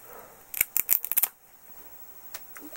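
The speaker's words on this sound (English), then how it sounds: "By soaking the quill here, you'll see that I'm able to cut that off without getting the" Scissors snip through a soaked feather quill for a pow wow bustle, a quick cluster of sharp close clicks, then quiet with one or two faint snips afterward.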